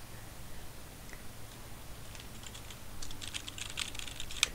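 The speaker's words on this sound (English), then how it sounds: "Intense typing." Rapid typing on a computer keyboard, faint clicking at first that grows into a dense, intense flurry of keystrokes in the second half, close and alone.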